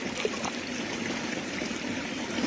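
A small stream flows through woodland, its steady close-up trickle and gurgle filling the short stretch evenly, with no voices over it.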